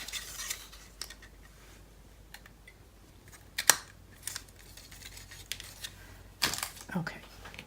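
Scissors snip through pieces of paper for a spring farmhouse craft project, giving several crisp, separate cuts spaced between quieter stretches of paper handling and rustling.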